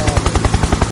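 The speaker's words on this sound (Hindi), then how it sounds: "चलिए हेलीकॉप्टर तो चला लिया।" Toy helicopter running, giving a loud, rapid rhythmic chopping pulse of close, evenly spaced beats throughout, with no voices.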